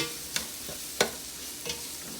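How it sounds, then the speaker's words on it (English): Braised apple is stirred into a pot of lamb stock, with a soft simmering hiss underneath and three distinct scraping stir strokes at steady intervals, close and moderately quiet, no voices. "add our Braised apple into the pot. Point, continue to stir"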